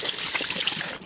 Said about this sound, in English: Now I'm gonna wash the pork with some cold water.